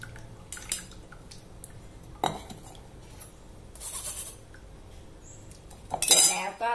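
Vanilla custard cream mixture being strained through a sieve, with intermittent metallic clinks and taps of utensils against a bowl, soft liquid dripping and a louder rattling clatter near the end.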